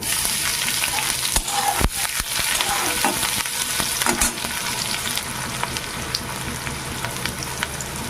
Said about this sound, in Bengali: দিয়ে দেবো একটু গোটা জিরে পেঁয়াজ কুচি